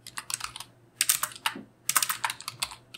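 Quick bursts of typing on a computer keyboard as a command is entered in a terminal, close and crisp clicking in irregular clusters with short pauses, no voices.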